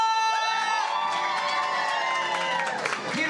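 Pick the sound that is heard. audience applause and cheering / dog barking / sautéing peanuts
audience applause and cheering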